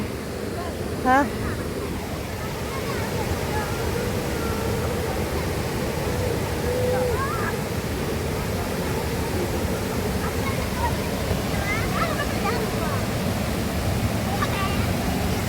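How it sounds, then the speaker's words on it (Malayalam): Water rushes over the Aarampulikkal check dam on the Punnapuzha river: a loud, continuous broadband roar fills the whole stretch, with faint voices now and then beneath it. "വെള്ളത്തിൻ്റെ എരമ്പിൽ ശബ്ദം കേൾക്കുന്നുണ്ടല്ലോ"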